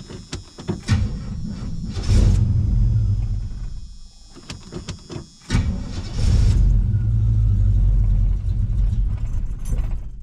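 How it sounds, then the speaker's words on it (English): A car engine cranks and catches on a cold start at about 39 degrees, stumbles, cuts out, then restarts into a loud, rough, uneven cold idle that rumbles steadily close by. "A little bit of a rough cold idle."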